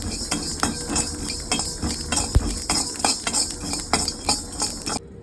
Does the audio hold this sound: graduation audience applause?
no